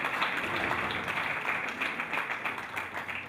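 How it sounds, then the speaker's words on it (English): Audience at a capital markets university challenge launch gives a hand of applause, dense, even clapping from many people that holds steady throughout, with no talk over it. "A hand of applause to these people"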